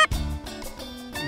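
A few geese honk in a flock passing overhead, short nasal calls close together over about a second, fairly near and clear with no talk.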